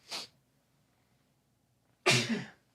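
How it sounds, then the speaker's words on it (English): Two sneezes separated by a pause: a short, light one first, then a louder, fuller sneeze close up. "Hold on. I got to sneeze."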